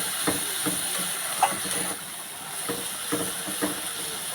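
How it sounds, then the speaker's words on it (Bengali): A spice paste of ground cumin, coriander and black pepper, made for a fish curry, sautés in a pan with a steady soft sizzle. Occasional light stirring knocks are heard, and there is no talking. "জিরে, ধনে আর গোলমরিচ বাটা, দিয়ে ভালো করে কষিয়ে নেব।"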